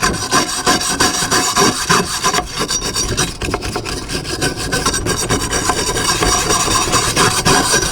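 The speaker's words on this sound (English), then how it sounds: "I'm just going to give it a good brush down to get rid of all that dry soil" A wire brush scrubs dry soil off a garden tool, making close, continuous rasping strokes that scratch back and forth for eight seconds with no pauses.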